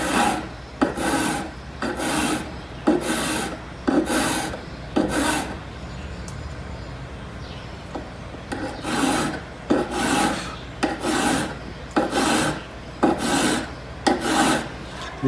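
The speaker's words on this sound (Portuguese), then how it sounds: "Dê sempre poucas passadas com a lima e veja o que está acontecendo." A hand file rasps in short bursts of strokes across the inner corner of a metal workpiece, with a few strokes at a time and brief pauses between them, close and clear with no talking.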